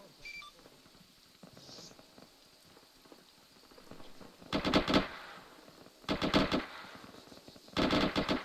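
Bursts of automatic heavy machine gun fire in a military video game battle, three loud sustained volleys separated by pauses over quiet background noise.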